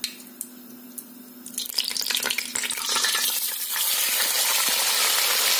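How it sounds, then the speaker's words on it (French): A whole fish lowered by ladle into oil in a large cooking pot for Senegalese thiep blanc, a few light clinks and then a loud, steady sizzle that swells and holds close by. "je vais plonger le poisson à l'aide de ma louche"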